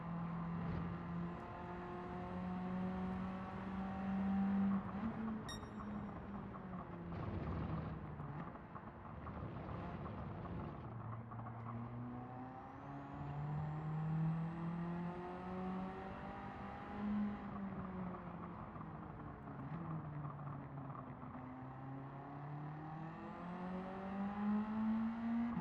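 Group A race car engine at Bathurst in Gran Turismo 7, quiet and continuous through a long endurance stint, rising and falling in pitch through gear changes, throttle lifts and corners, with no voices over it.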